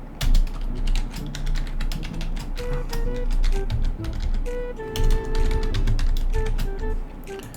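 Rapid keyboard typing, a steady stream of close, crisp key clicks with no voices.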